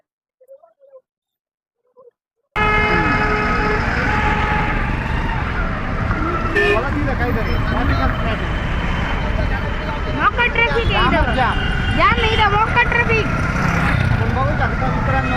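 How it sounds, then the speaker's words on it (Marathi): After a near-silent start, loud continuous traffic-jam noise sets in at a road junction during Diwali, engines droning with vehicle horns blaring intermittently. "हे दरवेळेस सीधाच ट्रॅफिक जाम होतो आपण बघू शकता"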